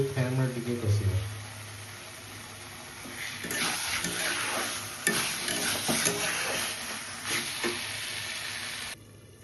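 Chicken pieces stirred and fried over a low flame for a home curry: a steady sizzle with scraping spoon strokes against the pan, close and continuous, while a voice talks early on.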